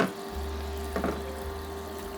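A small water fountain pump hums low and steady while water gurgles and bubbles gently nearby, with a brief splashy burst midway; no one speaks.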